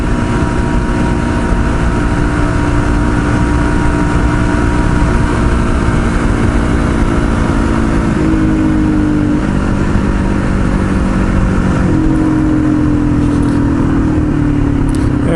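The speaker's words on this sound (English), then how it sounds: "that's not too bad for an old dirt bike dual sport" Engine of an old dual-sport dirt bike cruising at about 70 mph on a highway, a steady loud drone with constant wind roar and a few slight pitch shifts as the throttle changes.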